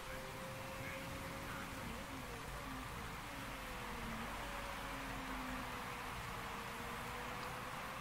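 Steady rain in the Motorsport Manager racing game gives a constant hiss of rainfall at an even level, with faint engine drones underneath.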